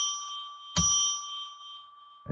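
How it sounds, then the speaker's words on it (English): A small bell is rung during a live psychic radio show, producing a bright ringing strike that sustains and slowly fades, followed by a second strike at the very end. "We're going to ring a bell 3 times now"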